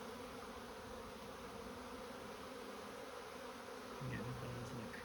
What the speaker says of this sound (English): I'm getting buzzed like crazy right now